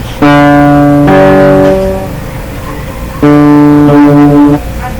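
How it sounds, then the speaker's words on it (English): Two separate sustained, ringing guitar notes, both D, sound close and loud, each one struck and left to fade, with a short pause between them. "the fourth string should also produce the same sound"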